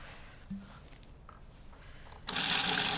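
A food processor whirs loudly and steadily toward the end as olive oil is poured through the feed tube into the pesto, following a quieter stretch with small kitchen clatter.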